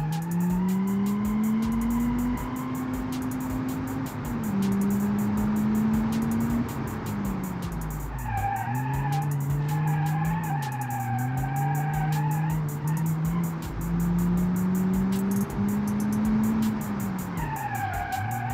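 A car in the BeamNG.Drive driving game skids hard with a handbrake pulled, and its tyres squeal loudly and continuously over a droning engine whose pitch rises and falls.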